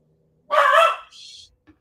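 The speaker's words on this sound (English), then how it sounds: "Damn dogs." Dog gives one loud, close bark followed by a softer, shorter yip, then quiet.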